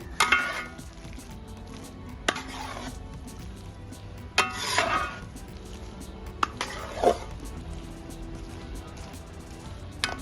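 Long-sliced ripe plantain and coconut slivers are mixed together in a pot, giving a handful of scraping, clattering stirring strokes spaced a couple of seconds apart. No voices are heard.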